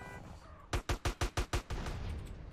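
Rapid gunfire from a minigun in GTA San Andreas: a quick burst of six sharp, evenly spaced shots, close and punchy, with game noise underneath.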